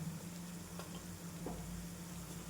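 Onion and green chili frying in a pan with turmeric and salt, a soft, even sizzle under faint stirring scrapes, quiet and continuous with no talking.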